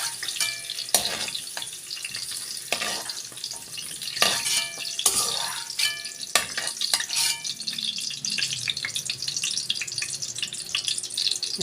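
Garlic and onion sauté in a pan for chicken caldereta, a steady loud sizzle with scraping stirs and clinks of a utensil throughout, no voices.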